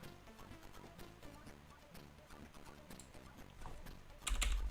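Fast, steady typing on a computer keyboard while setting up a Raspberry Pi 400, a quiet, close clatter of keys running continuously with a louder burst of strokes near the end, no voices.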